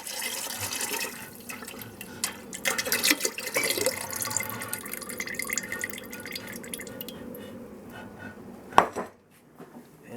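Cooled boiled lemon syrup for limoncello poured into a jug, a steady liquid stream with clinks of the container, fading near the end with a sharp knock.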